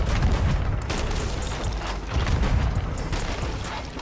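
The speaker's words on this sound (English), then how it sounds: "Also, I'm gonna cannon that." Dense, booming blasts of ship cannon fire roll continuously, loud and heavy, like a barrage in a Sea of Thieves battle.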